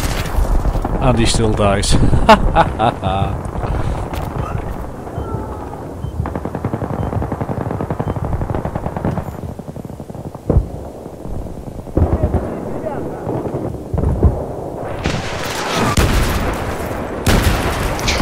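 Battlefield 3 machine gun fire in rapid bursts and scattered shots from nearby and further off, mixed with other battle noise while someone talks over it.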